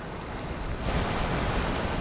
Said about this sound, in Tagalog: Matindi yung alon